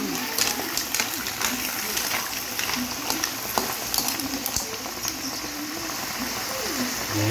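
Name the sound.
water poured into pan of sautéed mussels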